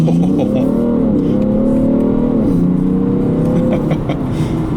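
2017 BMW 335d M Sport diesel estate launching hard from a standstill, the engine note loud and close, rising through the revs with a gear change partway before pulling again.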